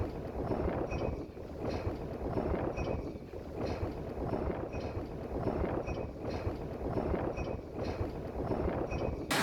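A Lagoon 380 catamaran motors out of its pen into Port Coogee Marina with its engines running, giving a steady, close, full-bodied drone mixed with wind buffeting the microphone throughout.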